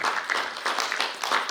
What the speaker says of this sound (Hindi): इनके लिए भी जोरदार ताली।